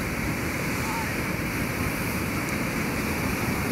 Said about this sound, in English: I don't know how much you can hear me because the waves are insane.